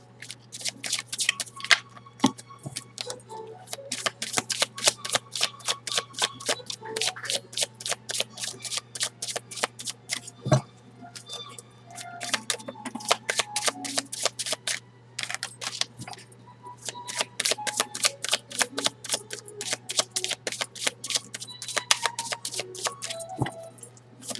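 Tarot cards are shuffled in quick, crisp riffles and flutters, dense bursts of snapping card edges close up, with short pauses between rounds and no talking.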